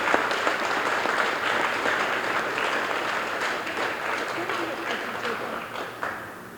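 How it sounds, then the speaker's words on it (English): At a Forest Park employee and volunteer recognition dinner, a room full of people applauds themselves with continuous, moderately loud clapping that holds steady and then starts to thin out. "let's all give ourselves a round of applause"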